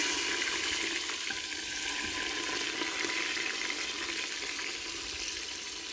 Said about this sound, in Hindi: अब प्याज शामिल करेंगे।